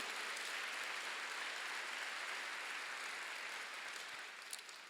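A church congregation applauds during a Sunday worship sermon, a soft, distant wash of many hands clapping steadily throughout, fading slightly at the end.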